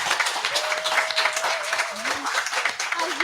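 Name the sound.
audience applause for the moderator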